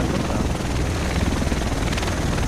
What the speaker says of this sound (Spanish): El resto tienen que estar en ese helicóptero.